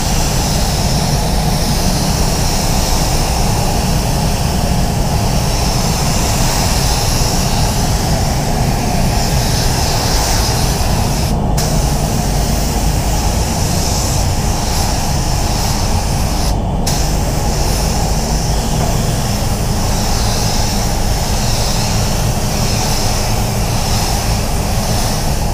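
A spray gun at 20 psi lays metallic paint on a Falcon XR6 from a distance, giving a steady, loud, continuous hiss that runs unbroken throughout with no talking.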